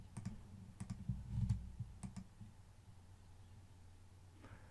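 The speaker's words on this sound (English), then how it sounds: "If I mistype a command, for example I type plint instead of print" A few sharp key clicks and taps from a computer keyboard as a mistyped Python print command is entered, sparse and fairly quiet with a faint low background hum.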